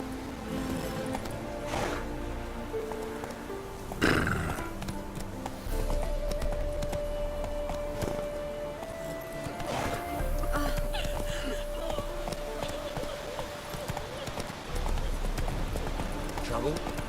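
In The Witcher 3, the horse Roach trots with steady, hollow clip-clop hoofbeats on a road while someone talks over the sound.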